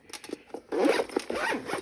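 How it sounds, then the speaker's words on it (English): Zipper pulled closed on a laptop accessory bag, a short scratchy zip that starts in light tugs and then runs in one steady close-up rasp. "Zip that up, and now I'm secure, ready to go."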